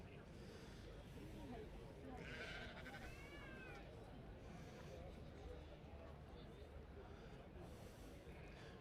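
Dutch Spotted sheep bleat at an agricultural show, a couple of wavering calls rising over a low, busy crowd murmur, with people talking in the background.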